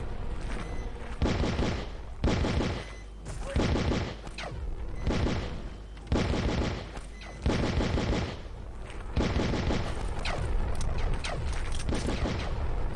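Heavy gunfire in the PC game Outcast, with repeated loud bursts of automatic shots and booming blasts, close and continuous over a dense battle background.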